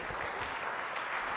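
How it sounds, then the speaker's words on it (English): Audience applause in a lecture or talk setting, a dense steady wash of many hands clapping for the full length with no pauses, moderately loud and even throughout. "Give me a round of applause, please."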